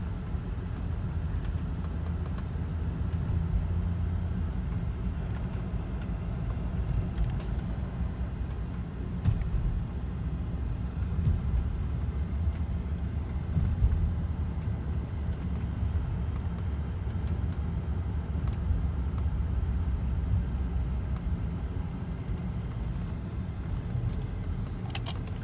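A BMW car drives with a steady low engine rumble and road hum that stays even and fairly close throughout, with no talk over it.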